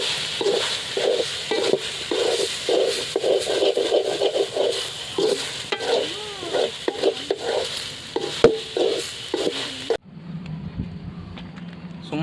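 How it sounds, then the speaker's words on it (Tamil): Soya chunks fry in a pan with pepper powder and salt as a spoon stirs and scrapes through them in steady repeated strokes over a constant sizzle, then the stirring stops and leaves a quieter hum. "பெப்பர் பொடியை ஆட் பண்ணி ஒரு கிளறி விட்டுருவோம்"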